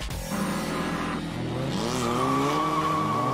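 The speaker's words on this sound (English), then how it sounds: "Sam's out rocking the ever-popular V10 Mopar Viper, and Tony's back onto the track in the same 240 he ran into the wall yesterday." Formula Drift cars at Soldier Field, Chicago, a Dodge Viper SRT10 with a V10 and a Nissan 240, skid with loud sustained tire squeal over roaring, revving engines, close and continuous.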